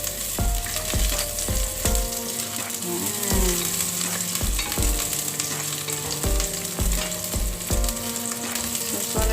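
Ginger and garlic fry in hot oil with a loud, continuous sizzle, close up, while a utensil clatters and scrapes rhythmically against the pan during stirring, with no talking.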